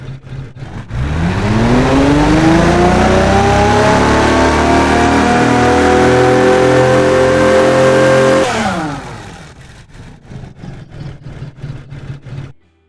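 A quad turbo V12 in the Automation car game revs hard from idle, climbs to a loud sustained high-rpm whine for several seconds, then drops back to a rough, fluttering idle.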